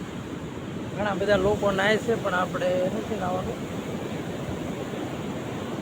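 Sea waves wash steadily onto the shore at Veraval Somnath, a continuous broad roar with wind across the microphone, while someone talks over it for a few seconds.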